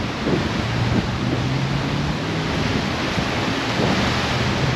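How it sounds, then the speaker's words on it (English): Strong hurricane wind from Hurricane Nicole roars in a continuous, loud, dense rush at Vero Beach, Florida, with faint low rumbles beneath and no speech. "Hope you can hear me over the wind"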